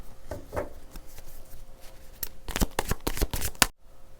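Tarot cards are shuffled by hand at close range. Soft, scattered slides give way to a quick run of crisp riffling flutters, which end abruptly.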